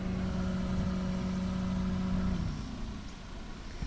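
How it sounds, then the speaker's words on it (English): A Daihatsu Hijet mini truck idles along in first gear, a steady low engine drone with a faint tonal hum that eases off slightly partway through, fairly close and alone. "It'll idle itself along just in first gear"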